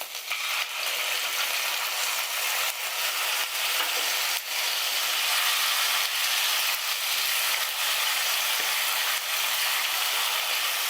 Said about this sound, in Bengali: এবার সব মশলাগুলো আমি একটু কষিয়ে নিচ্ছি